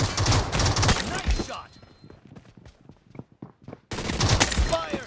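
Rapid bursts of PUBG gunfire crackle at the start and end, with sparse scattered shots and footsteps in the quieter middle; a voice talks throughout.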